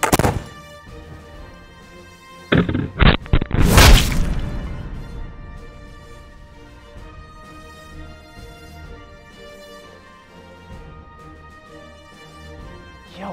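A flintlock rifle fired with an overcharge of powder, heard outdoors as a sharp loud crack with a brief burst just before, then a long decaying rumble and ringing tail that fades into quiet.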